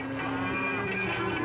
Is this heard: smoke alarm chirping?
no